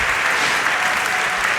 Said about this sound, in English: a big round of applause there for Max as he finishes his last solve of the competition